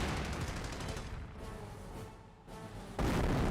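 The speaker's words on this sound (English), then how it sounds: "This seems a good spot for a barrage." Artillery barrage in the video game Company of Heroes: a continuous roar of overlapping booms and gunfire-like blasts, with a brief dip before a loud burst resumes near the end; no voices.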